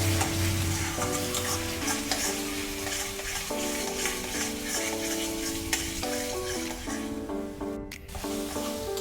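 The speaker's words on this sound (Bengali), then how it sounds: "1 টেবিল চামচ জিরের গুঁড়ো, এবং হাফ টেবিল চামচ হলুদ গুঁড়ো দিয়ে এটাকে আমরা ভালোভাবে মিশিয়ে নেব" Cumin and turmeric powder are stirred into a frying onion-based chicken masala in a pan, with continuous sizzling, a steady hiss of oil and the scrape and squish of a spoon working the mixture.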